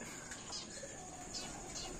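Racing pigeons coo softly at a rural loft in the Philippines, giving a few low, muffled calls over a hissy outdoor background.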